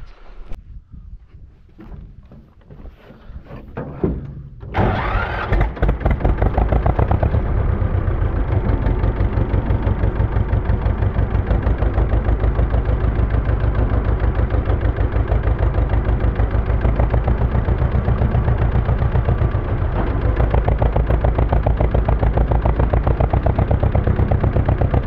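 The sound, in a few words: vehicle engine running while driving off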